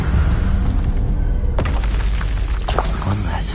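An Incendio fire spell in Hogwarts Legacy bursts out in a heavy, booming blast, with a second whooshing flare about a second later.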